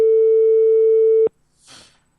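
A telephone busy tone after the caller hung up, a single loud steady tone that stops abruptly, followed by a short soft rustle.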